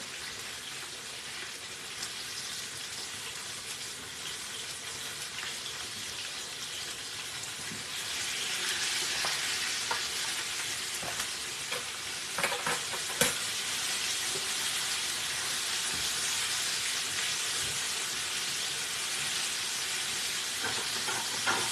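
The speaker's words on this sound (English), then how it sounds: "Things fry and make noise." Continuous loud sizzle and hiss of chicken tenders frying in oil, close up, growing slightly stronger partway through, with occasional clinks and no speech.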